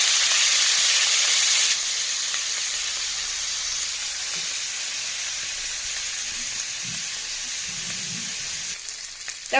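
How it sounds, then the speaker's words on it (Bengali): Dried chapa shutki fish fries in oil with salt and turmeric, a loud, dense sizzle at first that settles after a couple of seconds into a steady, softer hiss, close and with no talking. "একটু নুন হলুদ দিয়ে শুটকি মাছটা ভেজে নেব"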